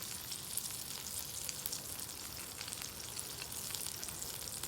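A rolled chicken quesadilla sears in a pan with a steady, close sizzle of frying that holds evenly throughout, with small crackling pops scattered on top and no voices.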